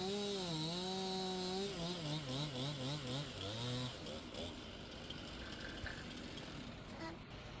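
A chainsaw cuts up an old wooden power pole on a utility job site, its engine loud and close, revving up and down in waves before settling into a rougher, steadier cut.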